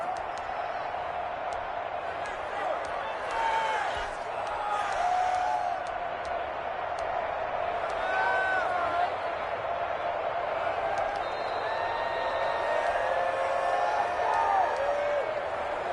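Stadium crowd noise swells and cheers in a Madden 21 football game ahead of a two-point conversion attempt, a steady roar running throughout under a play-by-play commentator's voice.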